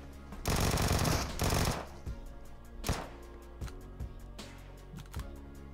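Bursts of automatic gunfire in PUBG Mobile, a long loud volley followed by scattered single shots and short bursts, with a steady background hum.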